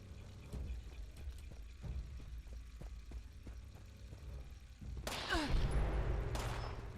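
Gunfire in the Fallout 76 video game: a rapid string of faint, evenly spaced shots under a steady low engine-like hum, followed by a louder burst of noisy impact near the end.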